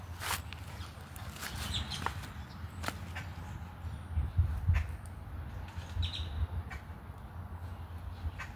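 Wild birds in a garden give scattered sharp chirps and short calls, fairly faint over a quiet outdoor background with occasional low rustling.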